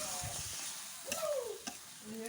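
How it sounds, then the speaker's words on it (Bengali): Beef being stirred in a hot pan makes a short burst of scraping and sizzling. Sharp clinks of the utensil stand out over a steady hiss of frying. "এই যে দেখুন এখন গোস্তটা দিয়ে দিলাম গোস্তটা নাড়াতে দেবো"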